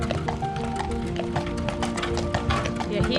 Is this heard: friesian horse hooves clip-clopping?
yes